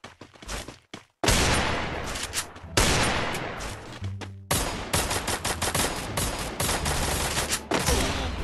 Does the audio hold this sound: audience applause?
no